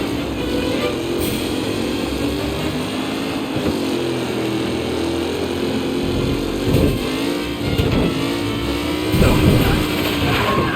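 Race car engines rev and drone in a race in the video game Mafia: Definitive Edition, loud and continuous, with pitch swells as cars accelerate and pass, and speech over the engine noise.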